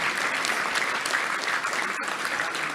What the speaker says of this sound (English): Let's give a round of applause for all of our great sponsors